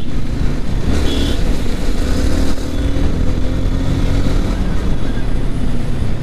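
A Yamaha R15 V3 motorcycle cruising along a dry highway gives a steady, loud engine drone mixed with heavy wind rush, holding even throughout with no clear gear changes.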